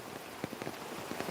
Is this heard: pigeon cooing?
no